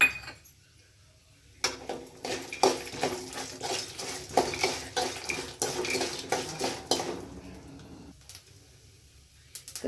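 Metal utensils clatter and scrape against a pan as peanuts go in while cooking avalakki puliyogare, a run of close, irregular clinks and stirring knocks.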